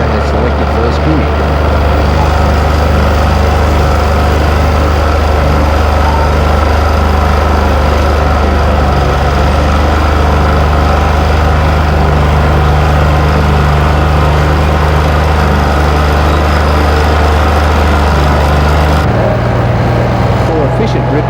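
A tractor pulling a ripping machine breaks out soil at working speed while building contour banks, its engine a loud, steady low drone throughout with a slight shift in pitch near the end.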